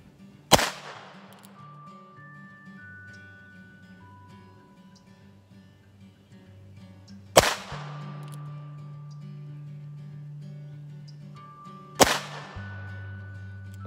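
Three sharp gunshots from a Heritage Barkeep Boot revolver fired at a 50-yard target, each a loud crack with a short ringing decay, spaced several seconds apart over a quiet outdoor background.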